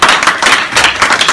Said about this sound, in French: Donc, à la suite de Valentin, je voudrais que vous vous applaudissiez parce que votre parti est un grand parti.